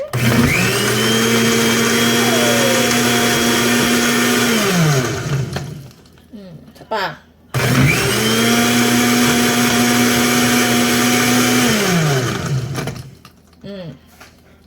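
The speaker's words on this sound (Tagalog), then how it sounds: "Is that enough blender?" A blender making a watermelon shake whirs loudly up close in two long runs, its motor pitch shifting as it spins, with brief talk in the pause between.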